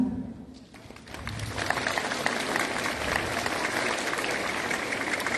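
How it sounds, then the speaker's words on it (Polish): A crowd at a school-year opening ceremony in Lubawa, Poland bursts into applause after a short quiet moment, then keeps clapping steadily and evenly, sounding somewhat distant and spread out. "brawa,"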